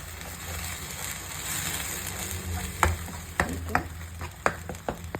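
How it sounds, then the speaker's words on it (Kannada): A ground paste mixture with onions, fried for palak paneer, sizzles steadily in a pan up close, with a run of sharp spatula scrapes and knocks toward the end and no voices. "ಹೀಗೆ ಮಿಕ್ಸ್ಚರ್ನ ಆ್ಯಡ್ ಮಾಡ್ಕೊಂಡ್ಮೇಲೆ ಒಂದು ಸ್ವಲ್ಪ ಹಸಿ ವಾಸನೆ ಹೋಗೋವರೆಗೂ ಫ್ರೈ ಮಾಡಬೇಕಾಗುತ್ತೆ"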